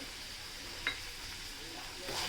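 Salt being stirred into snake gourd bhaji frying in a pan, a steady soft sizzle with one brief scrape of the spoon and a slightly louder stir near the end.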